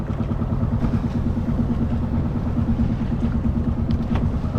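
Two boat engines running together on a fishing boat, a loud continuous low rumbling clatter that stays steady throughout without any talk.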